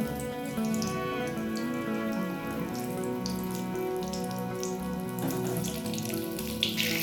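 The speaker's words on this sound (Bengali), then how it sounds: "এদিকে তেলটাও ভালো গরম হয়ে গেছে, আমি পটলগুলোকে ওর মধ্যে দিয়ে দিলাম।" Pointed gourd (potol) pieces fry in hot oil in a pan, giving a loud, steady sizzling hiss that runs continuously without pause and without any talk.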